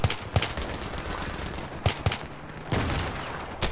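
Single rifle shots crack out in Battlefield 3, loud close bangs fired in uneven clusters over a dense background of game noise.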